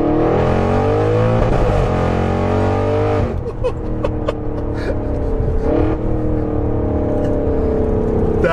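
Stage 2 tuned 700bhp Audi RS6 V8 accelerating hard from inside the car, a loud deep engine roar climbing in pitch, dropping at a gear change, then pulling again and rising steadily.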